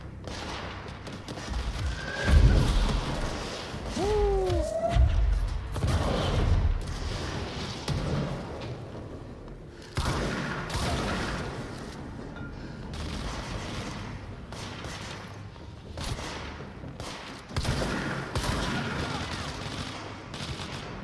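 Gunfire in the video game Control, bursts of shots and booms scattered across a busy, loud stretch of combat, with sustained noise throughout.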